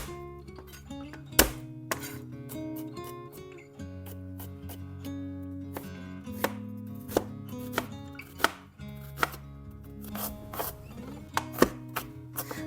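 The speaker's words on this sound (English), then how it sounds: "I love little chunks of ginger, so I chop mine finely" A knife chopping an inch of ginger finely on a board, a run of sharp, irregular close taps over steady background music, no voices.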